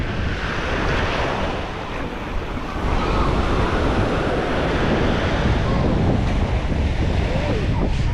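Ocean surf rolls onto the beach at Playa Mamitas in Playa del Carmen on a rainy day, a loud continuous wash of waves mixed with gusty wind noise on the microphone.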